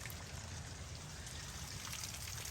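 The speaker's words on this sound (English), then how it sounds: "A ton of water coming off the house where it ain't got no gutters" Heavy runoff pours and streams off the edge of a house roof that has no gutters, a steady, dense splashing wash that holds even throughout with no pauses.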